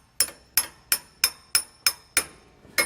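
Hammer taps driving a bolt through the shock eyelet of a rear anti-sway bar on a 2019 Coachmen Mirada motorhome: eight sharp metallic strikes, evenly spaced and close, each ringing briefly before the next.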